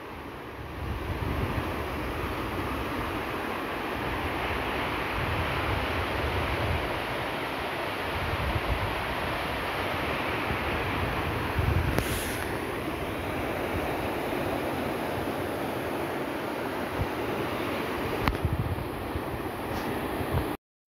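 Steady ocean surf rolls onto a beach in a continuous broad wash, with wind buffeting the microphone and occasional louder swells.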